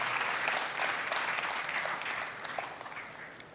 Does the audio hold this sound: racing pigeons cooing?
no